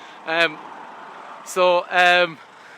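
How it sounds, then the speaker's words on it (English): A passing car sounds its horn outside a garage in Kildare: one short beep, a pause of about a second, then two quick beeps close together, fairly loud against quiet background noise. "this is a client that's just started beeping at me"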